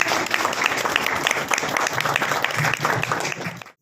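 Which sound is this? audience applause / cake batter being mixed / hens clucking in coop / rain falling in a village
audience applause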